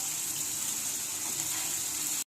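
Eggplant dropped into hot oil in a pan for a Bengaluru green eggplant poriyal, giving a steady, even sizzle and hiss that stays at the same level throughout and then cuts off abruptly.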